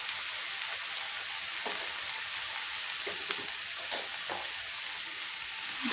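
Garlic and ginger paste fry with browned onions in a pan, giving a steady, soft crackling sizzle with a few faint stirring scrapes, close by and without speech.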